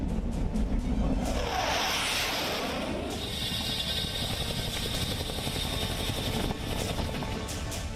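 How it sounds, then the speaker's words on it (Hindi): Chinook helicopter at the Leh airbase, a loud, steady rotor and turbine roar that stays close and constant throughout, with no talk over it. "लेह एयरबेस पर चिनूक हेलीकॉप्टर, AN-32 एयरक्राफ्ट,"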